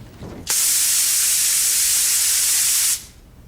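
A spray tan booth sprays in one steady, loud hiss lasting about two and a half seconds, then cuts off abruptly into quiet.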